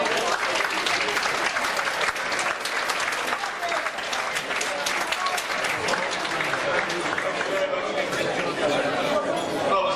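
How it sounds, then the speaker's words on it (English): Warm audience applause welcoming Peter Whitehead to the stage at a formal event, a steady full roar of clapping from many hands lasting throughout, with some crowd murmur beneath. "Ladies and gentlemen, please, with warm applause, welcome Mr. Peter Whitehead."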